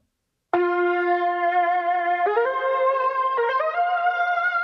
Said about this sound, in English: a creep lead, which sounds like this.